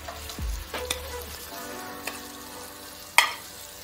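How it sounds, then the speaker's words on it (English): Pork chops searing in olive oil in a cast iron pan over medium heat give a steady low sizzle, broken by a few soft utensil taps and one sharper clink near the end. "sear these in a cast iron pan"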